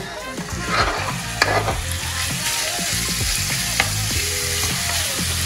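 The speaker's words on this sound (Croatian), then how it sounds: "tako da ćemo staviti meso lagano na tavu" Meat sizzles steadily in a hot pan, a broad crackling hiss with occasional sharper pops and scraping clinks from a utensil, no voices.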